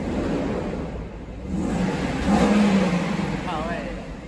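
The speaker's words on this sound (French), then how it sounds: "Là, on reconnaît le V8 Mercedes, quoi." The V8 of a Mercedes S500 rumbles nearby and swells into a short revving surge at mid-clip before settling. Someone talks over the engine at the same time.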